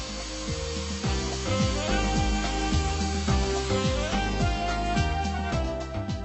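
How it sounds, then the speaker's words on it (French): A power drill whirs with repeated pitch sweeps as it bites into material, running steadily with brief changes in motor speed. "Percez les points prévus avec une perceuse."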